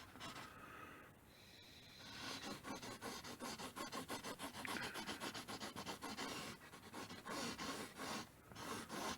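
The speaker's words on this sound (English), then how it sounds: "Just shading all this in." Pencil shading on paper for a drawing of a Datsun B210 car, a fast, even back-and-forth scratching rub that runs steadily, close and quiet with no talk.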